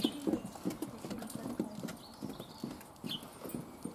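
Horse hooves clip-clop steadily on a hard surface at a stud farm, close by, in a loose walking rhythm with faint background noise.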